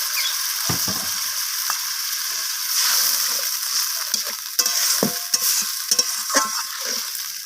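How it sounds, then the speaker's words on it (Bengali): Egg curry masala stir-fried in a pan with coriander leaves and a little water, a loud close sizzle with intermittent scraping stirs and faint watery bubbling, no voices. "ধনিয়া পাতাটা দিয়ে আমি আবারও কষিয়ে নিচ্ছি সামান্য পরিমাণ জল অ্যাড করে দিলাম"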